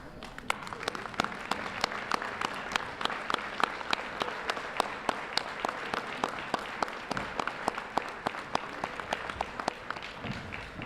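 Steady applause from convention attendees honoring the spouses in the room, a dense continuous patter of many hands clapping at moderate distance, with no voices over it.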